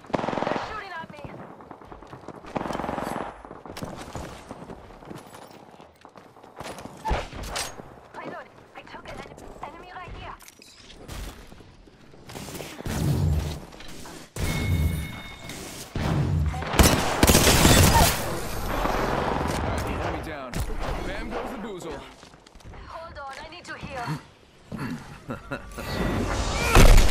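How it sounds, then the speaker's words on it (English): Rapid bursts of automatic gunfire rattle in a video game battle as enemies shoot at the player, coming in irregular clusters that grow denser and louder later on, with someone talking over much of it. "They're shooting at me."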